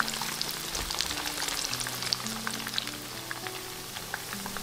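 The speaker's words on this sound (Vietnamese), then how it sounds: "Nó giống như là tempura của Nhật, người ta cũng chiên vậy đó." Shrimp fritters in batter deep-fry in hot oil, giving a dense, steady sizzle and crackle with scattered pops throughout, close and even in level.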